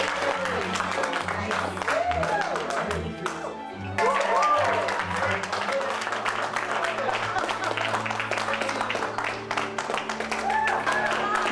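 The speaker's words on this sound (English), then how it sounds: "this is like the worst applauding scene ever" Applause and scattered cheering from a crowd in a low-budget horror film scene, steady and fairly loud throughout, with whoops and voices mixed into the clapping.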